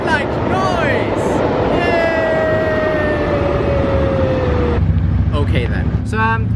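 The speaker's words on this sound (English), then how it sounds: "let's wait until this train is passed, because I like trains, but I don't like noise" A train passes close by outdoors, a loud continuous rumble with a long descending whine and tonal squeals, then the roar drops abruptly near the end while a voice is heard over it.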